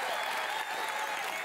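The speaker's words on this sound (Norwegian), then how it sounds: "Vi gir likevel en stor applaus til Lars og Alexandra." A studio audience applauds Lars and Alexandra after their tango on a televised dance show, a dense, steady wash of clapping filling the whole moment without any voices.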